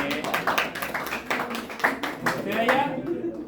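Classroom applause for students' artwork, a brief ragged patter of hand claps from a small group of children, close and lively, fading out after a few seconds while voices mix in.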